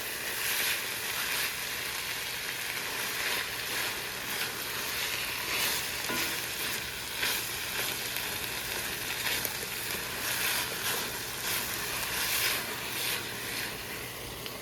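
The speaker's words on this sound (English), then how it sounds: "We're gonna put our tomato sauce in." Tomato sauce poured over finely chopped vegetables frying on high heat in a pot for Greek pastitsio, a steady soft sizzle with faint stirring, fairly quiet and even throughout.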